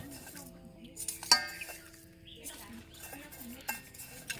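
Vegetable seeds are stirred together with sand before broadcast sowing, producing quiet gritty scraping with scattered light clinks against a container, close and intermittent, with a faint voice at times.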